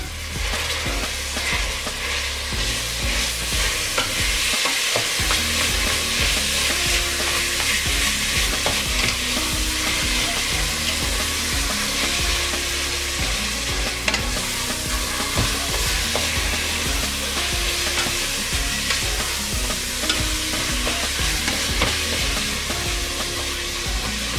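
Minced meat sizzles loudly and continuously in a hot pan while it is stirred, with repeated scraping strokes heard over the frying and no speech.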